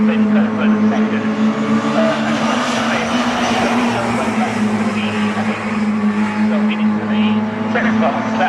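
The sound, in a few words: Mini Miglia race cars racing at Snetterton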